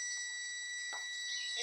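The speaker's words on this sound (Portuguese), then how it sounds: "Olha, bipando" A multimeter beeping during a continuity test across a machine's connector wiring and switch, one steady, continuous high tone that lasts the whole moment, fairly loud and close.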